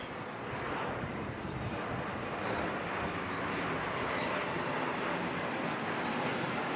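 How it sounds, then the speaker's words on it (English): An airplane flying over a girls' high school soccer game, a steady broad engine drone that builds slightly and holds, heard from a distance with some wind noise on the microphone. "Got an airplane flying over."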